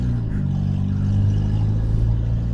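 An old Fiat Panda project car with its rear end stripped out drives along, its engine a loud, steady low drone that fills the cabin without a break.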